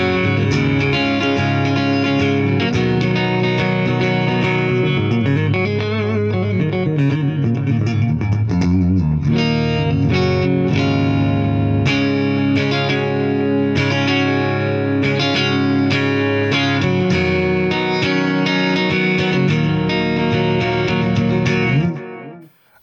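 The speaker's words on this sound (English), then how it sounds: "I can definitely tell this is one of the better clean tones, which I can get out of plugins" An electric guitar plays chords with a clean, shimmering tone through a PolyChromeDSP Nutcracker plugin, layered with chorus and a soft echo. It rings steadily for about twenty seconds, then cuts off.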